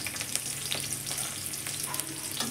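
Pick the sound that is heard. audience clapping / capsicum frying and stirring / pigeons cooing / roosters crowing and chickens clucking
capsicum frying and stirring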